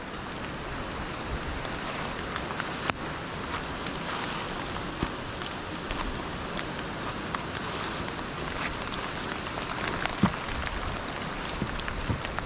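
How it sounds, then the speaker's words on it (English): Gayle waterfall pours fast as a dense, steady roar of rushing water, loud and unbroken throughout with no voices. "the waterfall looks like it's running quite fast"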